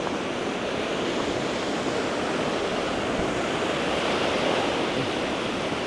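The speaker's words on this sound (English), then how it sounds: "So water from a deeper basin is blowing in here." Water driven in by wind from a deeper basin into a shallow one during outdoor birding, heard as a steady, dense wash of rolling waves and surf, continuous and fairly loud with no voices.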